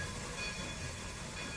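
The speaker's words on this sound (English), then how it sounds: "finally, the train has completely stopped into this station on time" A train in the RO-Scale Sandbox video game rolls to a stop at a station, heard as a steady, moderately quiet rail rumble with faint clatter and no voices.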